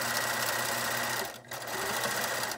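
A sewing machine stitches a fabric face mask in a steady, loud whirring run, briefly pausing mid-seam before resuming at the same even pace.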